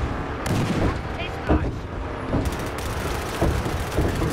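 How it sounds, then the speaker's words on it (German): Explosions and gunfire from the video game Battlefield Hardline on the derailment map, several loud blasts and bursts at irregular intervals amid a busy battlefield din. "Da explodiert was."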